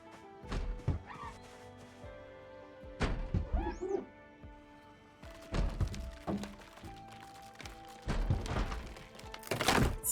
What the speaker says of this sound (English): Somebody's banging on some sort of window.